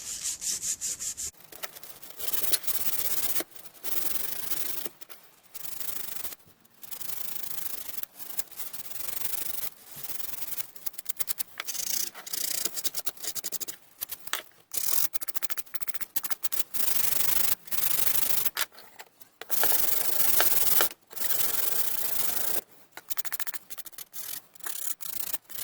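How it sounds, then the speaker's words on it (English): Sandpaper rubbing briskly against the edges of wooden toy train track pieces in repeated bursts with short pauses, a dry scratchy hiss, close up and fairly loud. "I'm just going to give them a quick sanding on the edges just to break over the corners."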